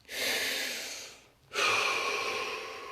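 A deep breath during a guided relaxation exercise: a long, close inhale, a brief pause, then a long, airy exhale, soft and alone without talk.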